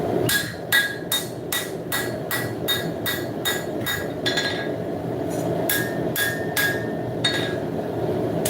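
Repeated ringing hammer blows strike a stainless steel knife blade on an anvil in a workshop, about a dozen sharp, bright clinks in a steady rhythm with a brief pause partway, close and loud over a low room hum.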